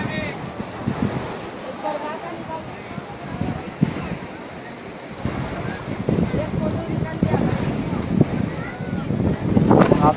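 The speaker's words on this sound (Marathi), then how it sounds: "लाटा एकदम जोरजोरात चालू आहेत" Strong sea waves crash along the shore near Haji Ali Dargah in Mumbai. The surf roars as a continuous rush, swelling and receding under heavy gusts of wind buffeting the microphone.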